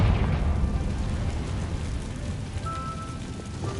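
The Confringo spell explodes in Hogwarts Legacy as a dense, rumbling blast that stays loud and slowly settles over several seconds.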